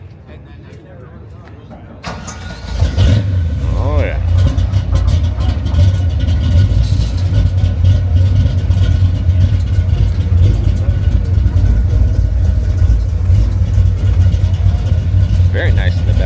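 A 1962 Chevrolet El Camino at a car show fires up after two seconds of quiet, then settles into a loud, throaty idle with occasional revs close by, while people talk briefly over it.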